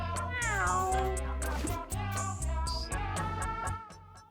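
Cats meowing in the video game Mewgenics, a series of close, drawn-out meows and caterwauls with rising and falling pitch over game music, with no talking.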